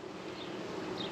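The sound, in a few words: honey bees buzzing at an opened nucleus hive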